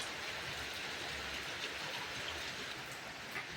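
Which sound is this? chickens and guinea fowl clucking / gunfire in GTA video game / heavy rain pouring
heavy rain pouring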